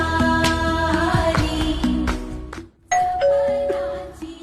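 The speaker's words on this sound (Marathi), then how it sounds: "बेल वाजती, तुला आवाज नाही येते का?" A doorbell chimes with sustained ringing tones over a busy musical background, briefly dropping out before another bright chime rings.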